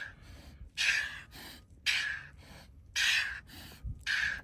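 Deep, audible breaths taken during a seated twisting exercise in an outdoor workout, four strong airy inhales and exhales in a slow steady rhythm, close and clear with no talking over them.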